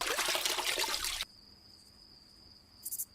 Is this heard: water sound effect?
yes